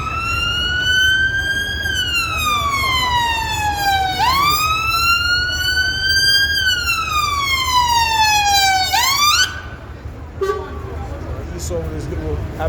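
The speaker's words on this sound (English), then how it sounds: "Esau with his little ambulance" An ambulance siren wails loud and close, sweeping slowly up and down in long rising and falling cycles, then breaks off into scattered short tones near the end. Noisy traffic-like background sits underneath.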